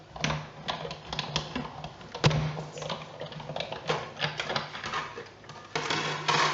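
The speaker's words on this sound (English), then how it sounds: "So I'm just placing my plate on top and running it through the Big Shot once again." A plate passes through a Big Shot die-cutting machine as its handle is cranked, giving a run of close clicking, ratcheting and rolling mechanical sounds with a heavier thunk partway through, no talking.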